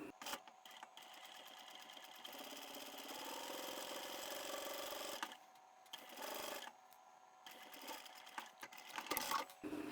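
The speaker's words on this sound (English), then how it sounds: "I'll sew as close as I can to that whilst still sewing on the fabric" A sewing machine stitches fabric along a lacy zipper using a zipper foot, a steady whirring hum broken by short stops and restarts, close and fairly quiet with no talking.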